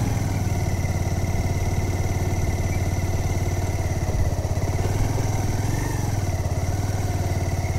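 A motorcycle engine runs steadily with a low, continuous throb and mechanical clatter, recorded from nearby for several seconds with no speech.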